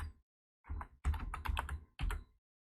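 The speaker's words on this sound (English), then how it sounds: "Why am I typing so fast right now?" Fast bursts of typing on a computer keyboard while writing C++ code, close and crisp, arriving in three quick clusters of keystrokes separated by short silences.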